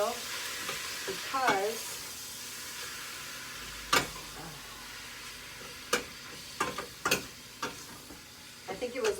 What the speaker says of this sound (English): I'm just right here stirring my beef up.